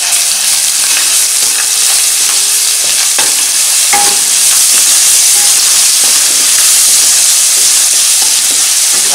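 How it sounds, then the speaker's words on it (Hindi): Ginger and garlic fry in a kadai of hot oil with a loud, dense, continuous sizzle and hiss, and occasional stirring clinks throughout. "अब हम इसमें 1 चम्मच अदरक डालेंगे। एक चम्मच लहसुन डालेंगे"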